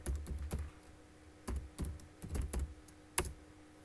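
Computer keyboard typing in short bursts of separate keystrokes with pauses between groups, close and fairly quiet, while a new HTML file is being created, with no talking.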